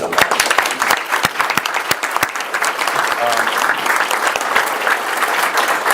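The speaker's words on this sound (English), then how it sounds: "round of applause for these two" Sustained applause from a board meeting audience fills the room, dense and steady throughout, with scattered louder claps and some voices mixed in.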